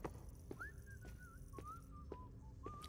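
A character whistles a wandering tune while walking away in the video game NeuroNet: Mendax Proxy, a thin, fairly quiet melody of sliding notes over faint footsteps and soft background ambience.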